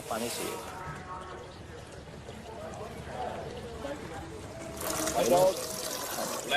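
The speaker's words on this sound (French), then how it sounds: "Je me lave le visage." Water poured from a container and splashed while someone washes their face in a crowded Asian prison, trickling and splashing close by with a louder burst toward the end, mixed with voices in the background.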